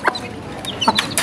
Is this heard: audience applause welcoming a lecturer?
no